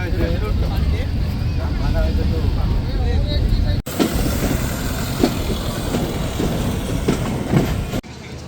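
A local mail train runs on rails out of Rajshahi, giving a steady loud rumble with recurring wheel clicks. Voices talk over the first half, and the noise stays close and continuous throughout.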